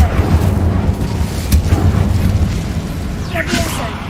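A fire spell, Incendio, is cast in a Hogwarts wizarding video game, giving a short whooshing burst near the middle over a rumbling low background, with a brief sweeping flare toward the end.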